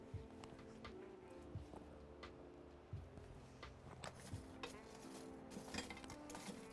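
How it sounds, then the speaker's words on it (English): Charcoal coals in a BBQ grill are scraped and pushed around with a tool, giving a steady run of gritty scratches and light clinks, fairly faint and close. "I'm gonna give it a stir around just to spread out those coals."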